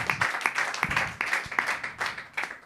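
A church congregation applauds at a Divine Power Ministries altar service, rhythmic clapping in bursts close by, filling the moment without talk.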